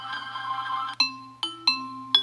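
A Google Pixel notification tone, ringtone-like, plays as a short series of bright electronic chimes: a sustained tonal passage, then four sharp struck notes at uneven intervals, each decaying, over a steady low hum.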